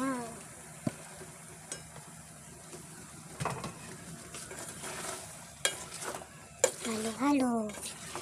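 Sponge gourd (patola) being stir-fried in a pan for a sautéed patola and sardines dish, with a utensil scraping and clattering at irregular intervals over a low background sizzle, and a voice faintly present at times.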